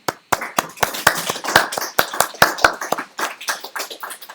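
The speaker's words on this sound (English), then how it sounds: "I'd like to invite to give them a round of applause for their time" Audience applause for UK party election candidates at a Berlin hustings: a smaller crowd claps with distinct, fairly close individual hand claps in an uneven rhythm, starting after a brief pause and holding steady before tapering off.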